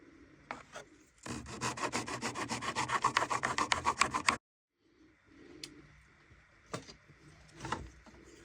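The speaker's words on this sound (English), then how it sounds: "we need to trim the brace to this size first. The best way to do that is with a saw." A small saw cuts a wooden brace for a stick dulcimer in a rapid rhythmic run of close strokes lasting about three seconds, followed by quieter scraping and a few light knocks.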